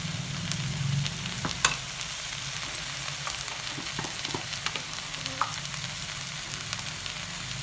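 Mashed potato masala for potato bonda is sautéed in a pan, making a continuous soft sizzle broken by scattered scrapes and clicks as a spoon stirs it, with no talking.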